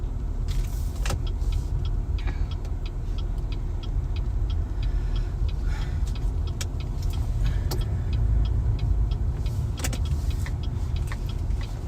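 A car driving through town, its steady engine rumble and road noise running continuously and close, with occasional small clicks and rattles inside the cabin.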